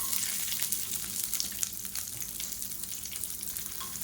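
Square-cut medium onion sautéing in oil in a kadai for ladies finger masala, a continuous moderate sizzle with soft stirring scrapes, close by and without speech.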